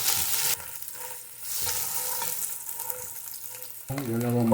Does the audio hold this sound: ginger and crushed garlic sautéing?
yes